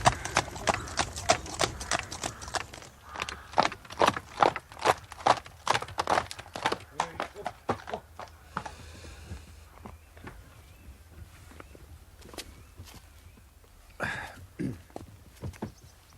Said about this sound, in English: Puedes ensillar el caballo y guardar el coche.